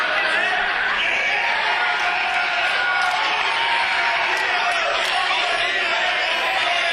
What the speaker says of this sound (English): hearing it from the crowd in the Norfolk Masonic Temple